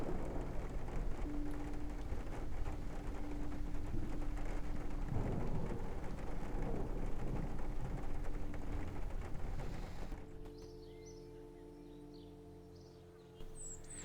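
Steady rain hiss and low rumbling thunder fill the scene in the game Kerbal Space Program, loud and continuous, then fall away to quieter ambience with faint chirps near the end.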